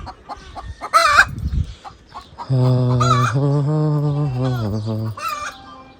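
Hens clucking and calling up close, with one long, loud drawn-out cackle in the middle and several shorter squawks around it, no talk over them.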